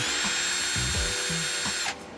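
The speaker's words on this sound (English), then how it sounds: "start drilling out the holes" A power drill whines and revs in bursts close by, grinding holes through a car headliner with rising and falling motor pitch before cutting off.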